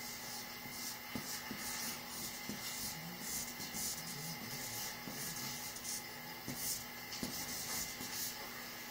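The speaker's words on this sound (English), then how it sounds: "let me write this down." Soft scratching strokes of writing on a board in a quiet classroom setting, faint and close, coming in short irregular bursts over a low steady background hiss.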